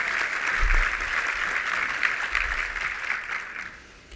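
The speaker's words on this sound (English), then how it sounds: "Give her another round of applause, please." Sustained applause fills an awards reception, a steady wash of clapping from an audience that holds for about four seconds before tapering off slightly at the end.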